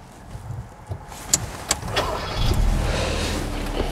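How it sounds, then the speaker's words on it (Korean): A car engine cranks and turns over at a driving-test course, after a few clicks and thuds from inside the car, then settles into a steady low idle without talk. "시동 거시고"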